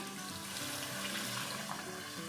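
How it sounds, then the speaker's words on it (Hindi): Half a glass of water poured into a pan of spiced potato slices (aloo ki katliyan) cooking in masala, a steady close splashing wash with a light sizzle underneath, no talking. "तो अब इसमें आधा गिलास हम पानी का डालेंगे"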